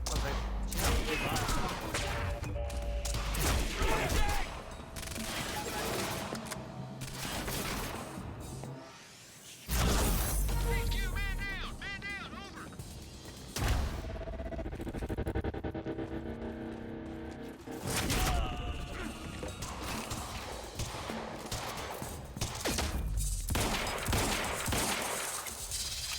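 Heavy gunfire in Quantum Break, loud, dense volleys and bursts across the whole stretch, broken by brief pauses and a few crashes and whooshes, with voices shouting in places.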